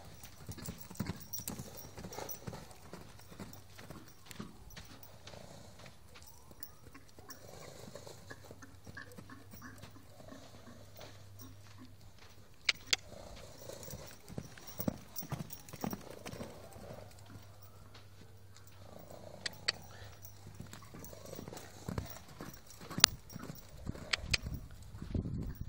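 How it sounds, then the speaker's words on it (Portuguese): A horse trots on command, its hooves clip-clopping in a steady repeating rhythm at moderate distance, quiet overall with occasional sharper hoof strikes. "Trote, trote."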